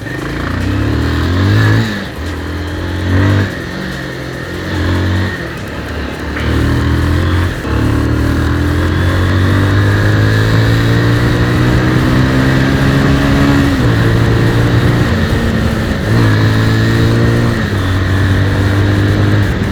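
Bajaj Pulsar 150 motorcycle engine revving and accelerating repeatedly, loud and close, with rising tones through several gear pulls and brief dips between them, steady and continuous throughout.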